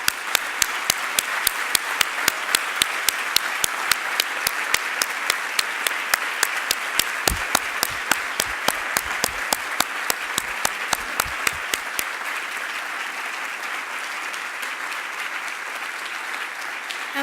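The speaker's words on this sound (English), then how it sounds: "please join us in a round of applause for this remarkable group of people." An awards-ceremony audience applauds Purpose Prize Fellows with sustained, even clapping from a large crowd, accompanied by a regular, sharp tapping pulse through most of the run that stops about two-thirds in while the clapping carries on.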